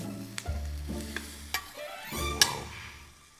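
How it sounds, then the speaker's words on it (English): Vegetables for steak fajitas sizzle and hiss in a hot pan while a utensil stirs and scrapes, with a few clanks and a brief loud metallic hit near the end. "you wanna let it sit for a second, and then you give it a saute"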